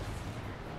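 Cannon fire booming on a Total War: Warhammer battlefield, a single short low rumble with no voices over it.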